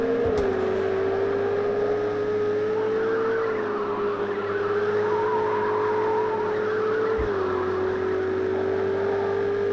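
In Project Cars 2 on the Barcelona circuit, a race car loses its rear end on the final lap. A steady, droning engine note carries through, with a broad hiss of sliding tyres that dips briefly near the end.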